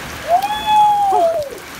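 Heavy rain pours down during a hurricane, a steady hiss running beneath a long, rising and falling whooping shout from a nearby voice.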